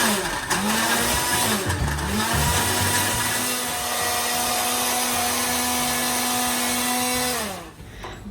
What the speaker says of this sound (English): Now we will cover our blender and start blending.